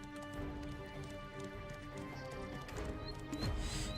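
Horse hooves clip-clop in a steady, close trotting rhythm within the Black Desert video game, layered over a continuous tonal musical background.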